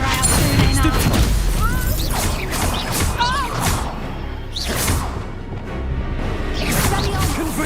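The Confringo blasting spell in Hogwarts Legacy bursts in several whooshing, crashing impacts amid combat, with voices talking and shouting over the explosions.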